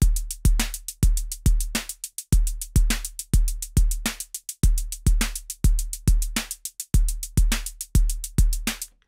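Pocket Operator drum machine playing a simple verse pattern, a steady loop of punchy kick drums with crisp snare and hi-hat hits in a tight repeating rhythm, close and dry, with no talking.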